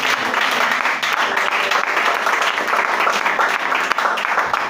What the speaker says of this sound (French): Si tu es content, acclame le Seigneur Jésus.